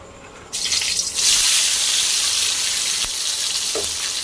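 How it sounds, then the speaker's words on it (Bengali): Five or six chopped onions drop into hot oil already used for frying potatoes for biryani, setting off a sudden loud, steady hiss that swells after a second and keeps sizzling close by. "দিয়ে দিলাম পেঁয়াজটা। পেঁয়াজটা লাল করে ভেজে নেব।"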